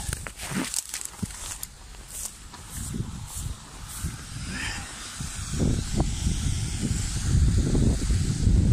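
Gusty wind buffets the microphone with a low rumble of trucks that swells toward the end as they roll past outdoors, with scattered thumps and rustling.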